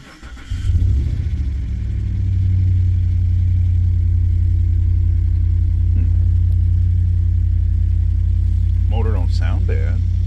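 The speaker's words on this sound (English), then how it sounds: "Motor don't sound bad." A Hemi V8 in a towed-in Ram truck starts and settles into a steady, loud, low idle that holds throughout, with a brief voice near the end.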